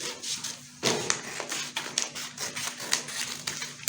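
Scissors cut through a paper bodice pattern along the front armhole. The blades make a run of quick, close snips and crisp paper rustles in an uneven rhythm, fairly soft.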